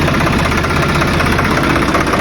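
A tractor engine idles loud and close, a steady rough chugging rumble that runs evenly with no pauses.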